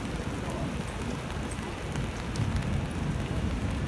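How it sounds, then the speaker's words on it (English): Steady rain falls on a downtown city street closed to traffic, a dense, continuous hiss and patter that holds at an even level throughout with no voices. "It has to rain on the day when they close down Yonge Street"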